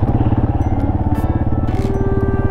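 A Yamaha Serow 250 trail motorcycle fitted with a new aftermarket muffler rumbles at low speed on a forest dirt road, its close, steady exhaust pulsing evenly throughout.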